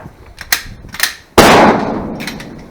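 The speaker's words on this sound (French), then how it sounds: "J'ai touché la ferraille." A rifle shot strikes a homemade steel reactive target about 100 meters away, giving a loud sharp crack with a ringing metallic decay, preceded by a few faint distant pops.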